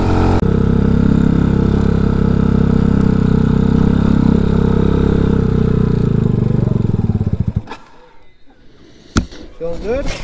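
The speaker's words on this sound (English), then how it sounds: "my idle keeps going up here" A motorcycle engine idles loudly and steadily up close with a rising idle, then cuts out, leaving quieter clatter and brief noises.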